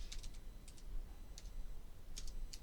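Soft, quiet keystrokes on a computer keyboard come in short irregular clusters of clicks with small pauses, close and alone over low background hum.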